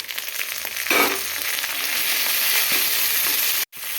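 Chopped tomato and ginger frying in hot oil, a loud continuous close sizzle with a few stirring scrapes and one brief dropout near the end.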